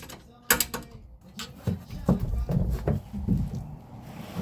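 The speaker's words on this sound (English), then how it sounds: "I don't think I have a socket this big, so I'm using an adjustable wrench." An adjustable wrench strains against a tight 30 mm bolt while prepping a 24-year-old WRX wagon, giving a few scattered metallic clicks, creaks and scrapes at close range in short bursts.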